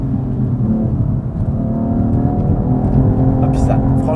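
A BMW M3 or Toyota GT86 accelerating hard, its engine induction noise rising in a dense, loud roar with a steady climbing drone; a voice is faintly present underneath.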